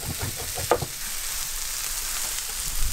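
Mushrooms sauteing in a pan, browning in steady sizzling frying noise with a brief clank or stir near the start, heard alone without talk.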